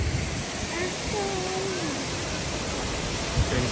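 Peguche waterfall in a humid river gorge, a broad steady rush of falling water heard up close, with a few faint tonal whistles drifting over the constant roar.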